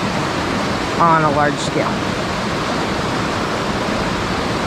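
Steady rushing of a summer creek during a fishing trip, a constant close wash of flowing water with someone speaking briefly over it.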